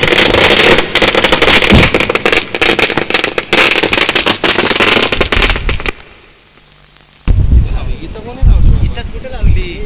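Firecrackers burst in a welcome display at a village cricket tournament in Nalimbi, with dense crackling and rapid pops for about six seconds, then a brief lull before more crackling and popping returns.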